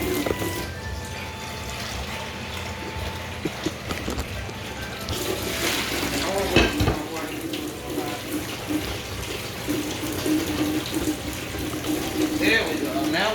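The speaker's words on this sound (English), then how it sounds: "So we're going to put some water in this pot." Water runs steadily from a tap into a pot, a continuous splashing hiss with clatter midway and faint background noise.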